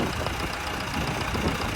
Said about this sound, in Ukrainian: Запускаємо наші диски в роботу.